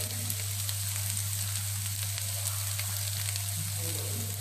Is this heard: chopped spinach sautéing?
yes